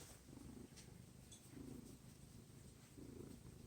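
A cat purrs softly and steadily at close range, the low rumble rising and falling in even breathing cycles about every one and a half seconds.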